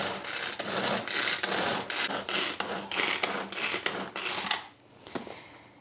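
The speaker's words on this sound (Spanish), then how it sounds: "Primero la corto en trozos más gruesos, la pongo en la picadora y la pico menudita." Onion being chopped fine in a manual food chopper, a steady run of scraping, rasping strokes close by that fades near the end.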